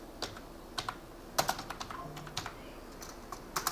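Computer keyboard typing a search: close, crisp key clicks in an uneven, quick rhythm with short pauses, quiet and with no talk.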